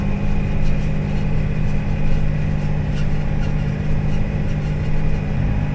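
A Kubota tractor engine idles at a steady, close, continuous drone with a low rumbling tone throughout, alone with no talk, by a roadside being mowed.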